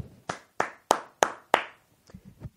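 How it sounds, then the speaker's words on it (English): Five slow, deliberate hand claps ring out close and loud, evenly spaced like sarcastic applause, followed by a few softer handling taps. "I got to put down the mic for half a second and just applaud you"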